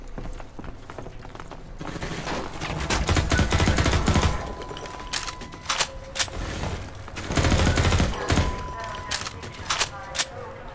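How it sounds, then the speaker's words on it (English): Rapid SMG fire in the video game Half-Life 2 MMod, coming in sustained bursts with thuds and other shots mixed in, loud and up front while a voice talks over parts of it. "I'll just use an SMG on you guys."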